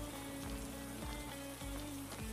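Rain falling in the game School Party Craft, a soft continuous patter heard faintly beneath steady background music.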